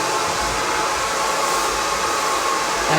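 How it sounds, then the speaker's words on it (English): A blow dryer running on its high, hot setting gives a loud, steady whoosh of blowing air that holds constant from start to finish, close to the listener, with no talking. "my heat back on the blow dryer. It's on high and it's on hot."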